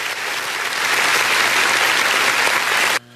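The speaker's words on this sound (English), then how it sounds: "Some applause." Close, dense applause from a small group claps steadily for about three seconds, then stops abruptly.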